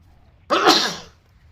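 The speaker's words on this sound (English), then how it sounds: "Oh, I'm gonna sneeze again." A single loud human sneeze bursts out abruptly, close to the microphone, and fades over about half a second in an otherwise quiet room.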